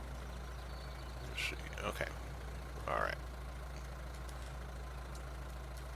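A tractor engine idles steadily with a low, constant rumble throughout, while someone speaks a couple of brief words over it.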